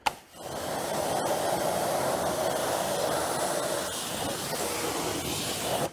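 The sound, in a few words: rinsing wheel cleaner off car wheel with water spray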